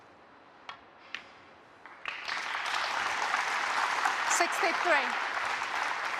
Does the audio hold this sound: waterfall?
no